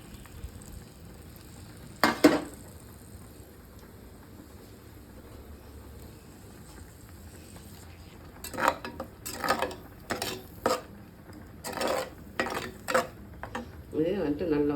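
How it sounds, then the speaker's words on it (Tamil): Paste is sautéed in a pan for egg curry: a low sizzle runs underneath while a spoon scrapes and knocks against the pan in short clustered bursts, with one early clatter and quieter stretches between. "நல்லா காஞ்ச உடனே இதை மட்டும் பேஸ்ட்டு மட்டும் போட்டு வதக்கணும்."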